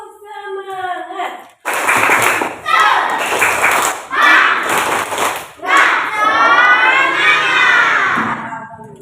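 An Indonesian school class performs a rhythmic spirit clap, bursts of children's clapping and shouted chanting in several phrases with pauses between, loud and close, opening with a teacher's voice.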